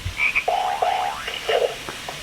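A frog croaks in a short run of several rising, buzzy calls, fairly close and clear against a quiet background, with no one speaking.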